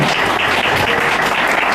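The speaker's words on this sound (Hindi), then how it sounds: "जोरदार तालियां बजाएंगे सब।" Loud, dense applause fills a church as the congregation claps together during live worship, a continuous close roar of hands with no pauses.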